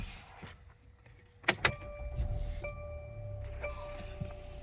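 A 2017 Mercedes GLC300 with a fluid leak and a flashing check engine light starts up: a couple of sharp clicks and cranking bursts, then a steady low engine idle with faint whining tones, close by.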